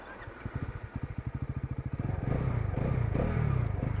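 A Bajaj NS400Z motorcycle engine cranks with rapid, even pulses, then catches and runs with a rough, unsteady idle, close and loud, with no talk over it.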